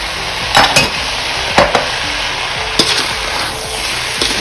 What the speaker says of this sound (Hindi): क्विकली स्टर फ्राई करेंगे।